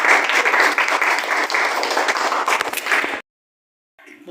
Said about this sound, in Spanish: aplausos para su compañero